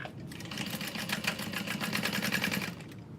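A sewing machine stitches a custom leather bag at stitch length 4, with a fast, even run of needle strokes close by and no talking.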